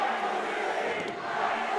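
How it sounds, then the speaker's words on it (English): A crowd at a Wrestling Revolver show chants Alpha Sig chants. A dense, steady roar of many voices fills the arena, loud and continuous throughout. "Listen to those Alpha Sig chants."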